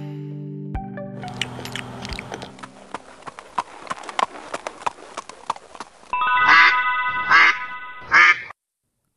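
Cartoon duck quacks ring out three times in a row, loud and bright, following a busy stretch of clip-clopping hooves and music in an animated folk tale.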